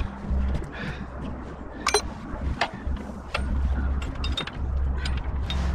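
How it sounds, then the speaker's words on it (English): A wrench works the three-quarter-inch cab bolts on a 1959 Chevy Napco 4x4 truck, with scattered metallic clicks and ratcheting ticks over a low steady hum, moderately close and without speech. "and you put a wrench on the backside."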